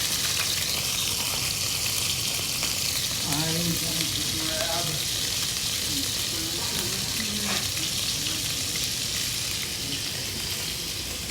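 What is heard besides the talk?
fish searing in hot olive oil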